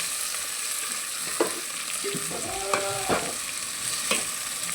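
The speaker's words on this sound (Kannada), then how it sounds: "ಬೋತ್ ಸೈಡ್ ಕಡೆ ಎಣ್ಣೆ ಹಾಕಬೇಕು, ಅಷ್ಟು ಫ್ರೈ ಆಗಬೇಕು." Food fries in oil in a pan with a steady close sizzle and crackle, and a few soft clinks and scrapes from stirring stand out from it, with no talking.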